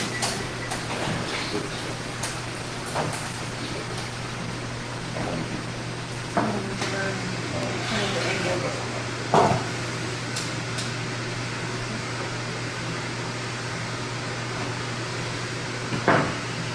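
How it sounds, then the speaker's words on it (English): Microwave oven running while cooking an egg: a steady mechanical hum with a low drone, fan-like and continuous, broken by occasional faint clicks and knocks, close and fairly loud with no talk. "they can watch the microwave and see the egg get bigger and bigger and bigger"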